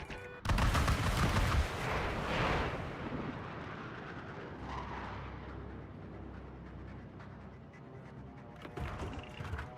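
Heavy weapon fire and booming blasts in a naval combat video game, a dense opening burst followed by a sustained rumbling roar with scattered later impacts, no talking.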